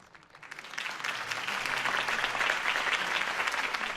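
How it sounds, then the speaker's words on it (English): Crowd applause in a Gotham City campaign rally scene from the Telltale Batman video game, a dense wash of clapping that swells from a soft start into a steady, loud ovation lasting several seconds. "could have heard that applause"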